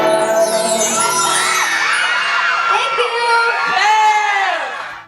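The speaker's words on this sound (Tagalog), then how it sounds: "halos hindi na magkarinigan ang lahat sa hiyawan ng kanilang Sambongueño fans" Fans scream and cheer for performers on the Fantasyland stage, a loud, sustained wall of high-pitched shrieks and whoops from a packed crowd that holds steady before cutting off abruptly.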